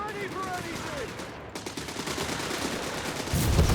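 Machine gun fire rattles in a Company of Heroes 3 battle, rapid bursts sounding at moderate volume beneath a commentator's talk, with other battlefield noise swelling near the end.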